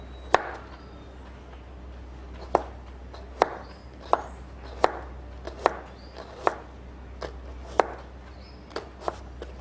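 Knife chopping carrot on a cutting board, about a dozen crisp, sharp cuts at an irregular pace, close and distinct against a quiet kitchen background.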